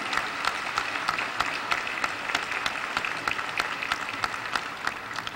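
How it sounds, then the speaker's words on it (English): Banquet audience at an NAACP Freedom Fund dinner gives a steady round of applause for a state Secretary of State, many hands clapping in a dense, even wash that holds throughout at a moderate distance. "Give her a round of applause for me"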